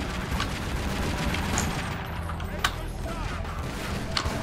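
Gunfire crackles in the Tomb Raider Legend video game, a dense steady rattle of shots with a couple of sharper single cracks standing out, loud and continuous throughout.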